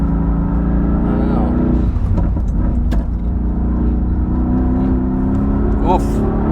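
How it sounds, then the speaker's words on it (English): A Mercedes-AMG GT S, shaking from a fault at high speed on the Nürburgring, drones with a loud, sustained engine note while a driver talks over it. "the car is shaking already, like left to right on high speeds"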